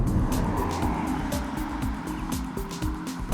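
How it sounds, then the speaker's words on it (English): A car running on Falken Azenis RT615K summer performance tires moves along at speed, with a continuous engine and road hum, rising and falling engine tones and steady tire noise, heard from inside. "Now I'm driving the car equipped with the Falken Azenis RT615K"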